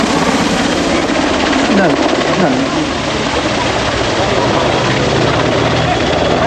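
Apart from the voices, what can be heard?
EH101 Merlin helicopter flying during display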